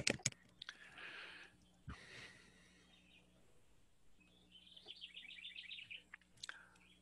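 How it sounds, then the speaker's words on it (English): Birds tweet with scattered, faint chirps and short song phrases under a quiet indoor hum, with the occasional soft sound of a person nearby. "you've got birds tweeting while we wait"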